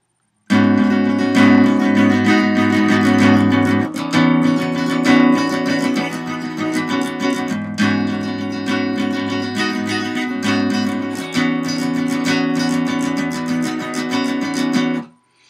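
A guitar plays a full part, a steady run of strummed chords, loud and close, with a brief change near four seconds and the phrase carrying on without a break until it stops.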